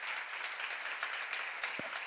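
Sustained audience applause at a church seminar, dense steady clapping from a crowd filling the space without pause for a couple of seconds.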